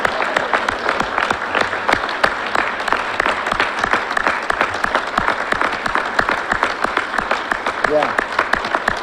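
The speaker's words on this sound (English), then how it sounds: "this seems like a good time to applaud" An audience claps for graduating fire recruits at a city fire academy ceremony, dense sustained applause from a large indoor crowd with a few cheers mixed in.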